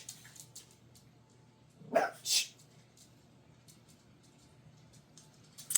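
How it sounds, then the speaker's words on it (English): A small dog barks twice in quick succession, sharp and fairly near, rising above a quiet indoor background with faint rustling and clicks. "You just knew a little dog was going to go off, didn't you?"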